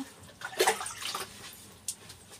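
Running water splashes briefly while dishes are washed in a small kitchen, with a few clinks and splashes over soft, faint background noise.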